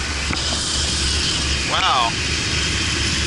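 An Arctic Steamer ice dam removal machine running at a Minneapolis house, a steady loud jet-like roar with a broad hiss, continuous throughout while a person briefly exclaims.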